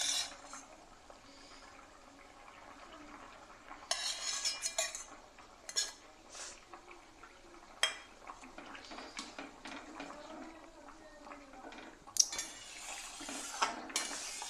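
Khoira fish going into a pan of papaya and potato curry, with scattered clinks of a metal utensil against the pan and soft stirring, fairly close and quiet with pauses between sounds.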